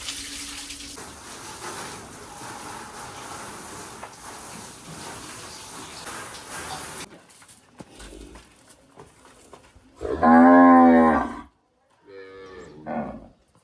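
Cows in a village cow shed give a loud, close moo lasting about a second, then a shorter, softer moo, after a stretch of running water and general shed noise.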